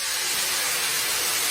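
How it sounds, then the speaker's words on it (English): Water poured into a hot pan of vegetables bursts into a loud, close, continuous hiss of steam that holds throughout, with no voices. "So now I'm just going to add some water,"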